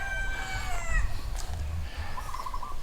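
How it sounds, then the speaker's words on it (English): Roosters crowing and chickens clucking in a backyard in Lualualei Valley on Oahu, a nearby rooster's drawn-out crow fading out, then softer clucks over a steady low rumble. "in the back here we have lots of roosters, chicken"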